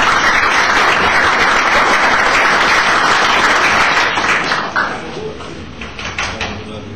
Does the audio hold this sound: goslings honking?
no